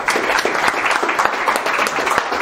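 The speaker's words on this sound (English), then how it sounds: "If we could just give him a round of applause" An audience at a university symposium on generative networks applauds a speaker, giving brisk, full clapping that fills the room for a short stretch with no voices over it.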